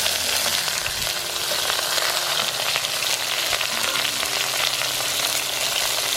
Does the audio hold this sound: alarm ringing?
no